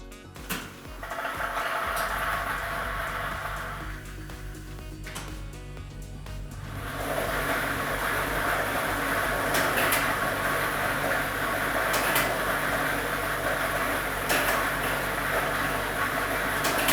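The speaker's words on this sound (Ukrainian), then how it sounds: "Тиражна комісія до початку гри довільно обрала лототрон Б комплект кульок номер 3 І ми вмикаємо лототрон." Lottery drawing machine B running with ball set number 3, a steady mechanical whir with continuous rattling and clacking of tumbling balls that grows louder and denser after the first few seconds.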